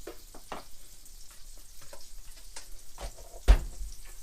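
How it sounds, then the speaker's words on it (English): A knob of butter hits a very warm frying pan and gives a quiet, steady sizzle, broken by a few light clicks and one sharp knock near the end. "I've let this pan get very warm. So I'm going to put a knob of butter in"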